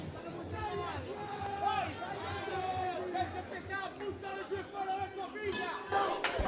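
Packed crowd at Club Punch Bowl between rounds of a boxing fight, a loud continuous babble of many voices with shouts rising through it, commentators talking over the top.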